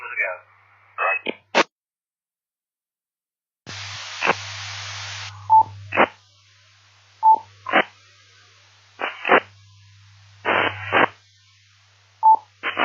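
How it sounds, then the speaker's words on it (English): Short electronic beeps and DTMF tone bursts from an amateur radio repeater on UHF, arriving in a repeated pattern alongside brief hiss and static bursts of keyed transmissions, with voices talking between the tones. "those little beeps are still used today, and then on at least the UHF frequencies"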